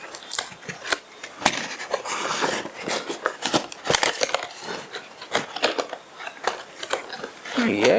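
Sealed packaging of OnePlus Bullets Wireless Z3 earphones is torn and opened up close, with sharp crinkling rips, snaps and rustling plastic coming in uneven bursts while a person talks over it.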